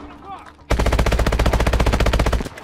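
Sustained automatic gunfire in the video game Call of Duty: Advanced Warfare, a loud, rapid burst of evenly spaced shots lasting about two seconds after a quieter lead-in.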